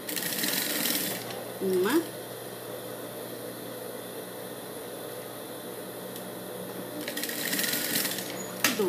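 A sewing machine stitches a small flower onto a blue dress in short bursts of fast, whirring needle runs separated by pauses, with someone speaking briefly between the runs.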